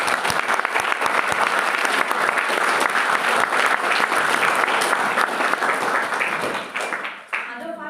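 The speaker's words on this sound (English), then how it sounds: "Can we have a big round of applause for" An audience at a bioinformatics and research methodology session breaks into dense, sustained applause that fills the room for several seconds before tapering off near the end.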